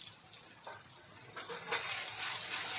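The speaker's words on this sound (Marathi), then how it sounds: "कढईत तेल तापलेलं त्याच्यात आम्ही कांदा टाकूया बारीक चिरलेला" Finely chopped onion dropped into hot oil in a wok, rising into a loud, steady broadband sizzle that swells and holds near the end of the short stretch.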